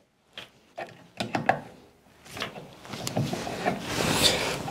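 Gas line fittings being loosened on the burner assembly of a gas water heater, heard close up as a series of sharp metallic clicks, ratcheting taps and scrapes, irregular and uneven in spacing, with no voices.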